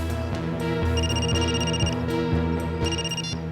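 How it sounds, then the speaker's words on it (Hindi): A telephone rings in a scene from the Hindi crime drama series CID: an electronic ringtone sounds in two bursts over a steady musical backing bed, clear and up front. "अभी अभी फोन आया"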